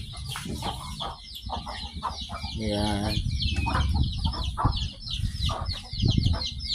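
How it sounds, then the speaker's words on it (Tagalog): Chickens cluck and newly hatched chicks peep close by, with a brief spoken word and some rustling among them. "ito na yung mga laga na bagong sisiw"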